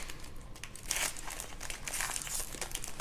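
A foil wrapper on an Upper Deck SP Authentic 2024-25 hockey card pack crinkles and tears as it is pulled open, close and crisp in several bursts, no voices.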